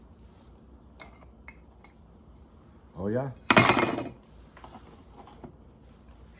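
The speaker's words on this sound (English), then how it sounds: "I can see the lid popping a little." A metal pot lid on a small Esbit solid-fuel stove gives a couple of quick tinny rattles and clinks, close and fairly loud, over a quiet background of low simmering, with someone speaking briefly in between.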